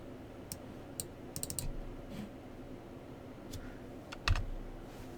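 Someone types on a computer keyboard while setting up an NES emulator, with scattered single clicks and short quick bursts of keystrokes at close range in a quiet room.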